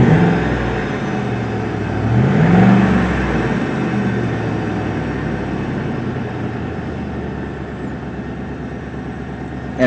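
Car engine idling steadily after a K&N air filter kit install, a continuous low rumble that swells briefly around the two-second mark then settles into an even, smooth drone.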